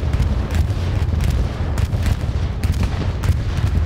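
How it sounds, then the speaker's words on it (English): Explosions from a defensive bombing run in a multiplayer war game rumble loudly and continuously, with dense overlapping booms and sharp cracks of distant gunfire layered throughout. "The defensive bombing run"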